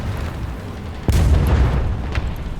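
A 4,000-pound bomb dropped from a Wellington bomber explodes in War Thunder: one loud, sudden blast with a deep low-end boom, followed by a rumbling decay that stays heavy to the end, with no talking over it.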